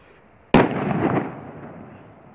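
A single firecracker bursts with a sharp, loud crack at a New Year's Eve celebration, followed by a rumbling echo that decays over about a second and a half.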